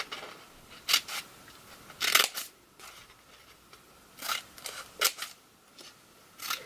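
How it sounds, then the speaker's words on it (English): Scissors cut slits into the folded end of paper for a paper flower, with a series of short, crisp snips spaced irregularly, some in quick pairs, close and clear over a quiet background. "I'm going to cut the slits at the folded end."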